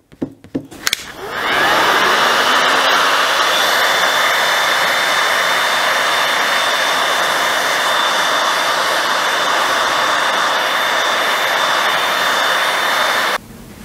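Heat gun blowing hot air to melt wax into a waxed jacket such as a Barbour, a steady loud whooshing roar starting after a short clatter and running continuously until it cuts off near the end.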